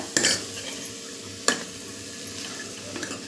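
Carrot and spring onion sautéing in oil for veg manchow soup: a steady broadband sizzle with sharp scrapes of a spoon against the pan near the start and midway, no voices.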